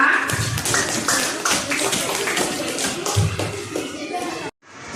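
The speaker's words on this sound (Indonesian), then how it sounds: "tepuk tangan untuk kelompok pertama ya" Classroom of students applauds the first group, a few seconds of brisk, dense clapping that stops abruptly, followed by brief silence.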